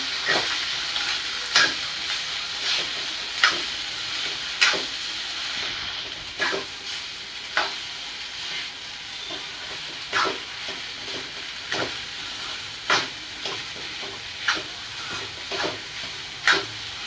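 Sabudana khichdi with peanut powder being stirred in a pan, a continuous sizzle marked by regular sharp scrapes and clinks of the spoon every second or so, with no talking.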